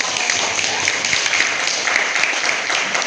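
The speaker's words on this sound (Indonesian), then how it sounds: "tepuk tangan buat rupiah kita" A high school class claps together in the classroom, a loud, steady, dense patter of many hands that carries on unbroken.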